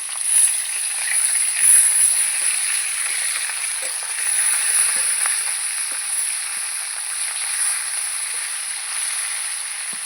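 Fish frying in a pan, a continuous bright hiss of hot oil with scattered small crackles, steady and close throughout.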